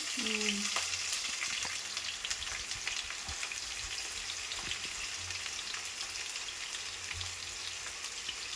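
Onions frying in hot oil in a home kitchen pan with cumin and mustard seeds, a steady close sizzle with faint crackles and a few stirring knocks, no talk over it.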